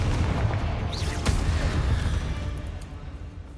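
Spell blasts in Hogwarts Legacy, Bombarda and Confringo explosions, one deep booming impact with a sharp crack near the middle, over a rumbling low roar that slowly fades.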